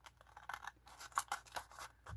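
Scissors cut paper in a series of quick crisp snips, about eight close cuts with short pauses between them, and a faint low thump near the end.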